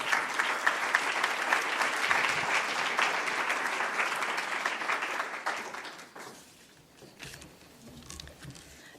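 Warm applause from a graduation audience for two MSc Environmental Technology graduate speakers, a dense steady clapping that fills the room for about six seconds before thinning into scattered claps.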